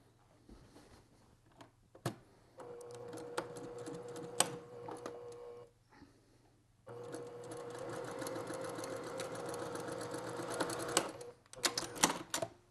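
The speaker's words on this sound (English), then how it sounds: "I'm just going to grab this here now, and I'm going to stitch it right back in" Sewing machine stitching quilt fabric strips, its motor running in two long bursts with short pauses and a few clicks of handling, close and steady with no talk.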